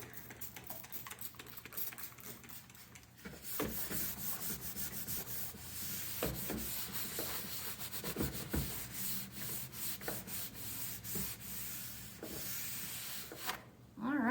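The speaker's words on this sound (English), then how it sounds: "you need to scrape off as much of the existing wax as you can before you put new wax on" Scraper pulling old wax off the base of a Lenz skibike ski, a continuous close rasping scrape with repeated strokes, louder after the first few seconds, no talking.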